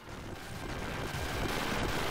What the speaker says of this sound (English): There's a lot of explosions.